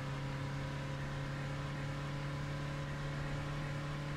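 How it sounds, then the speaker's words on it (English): A coastal shuttle minibus engine in Fernbus Coach Simulator drones at high revs, a steady, faint mechanical hum with no talk over it. "You really do feel like you're over-revving this minibus"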